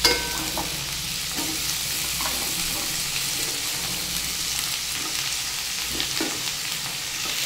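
Mixed vegetables, including sweet potato and carrot, fry in a hot pan with a loud, continuous sizzle. Occasional scraping knocks from stirring break through now and then, and no one speaks.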